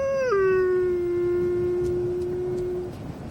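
A single wolf gives one long, clear howl, starting slightly higher and then holding a steady tone for nearly three seconds before fading, loud and close over quiet outdoor ambience.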